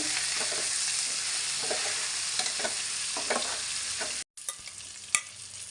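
Onions and ginger paste fry in hot oil with a steady, loud sizzle and occasional stirring scrapes, cut by a brief silence near the end.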